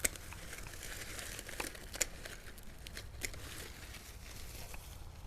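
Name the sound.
cutting back mum plant stems for cuttings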